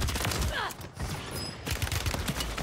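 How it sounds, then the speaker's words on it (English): Rapid bursts of gunfire from a Call of Duty Warzone match with a Rival 9 loadout, close and loud, layered over steady game noise, with a player talking partway through. "Oh, now you're gonna shoot me from up top like that?"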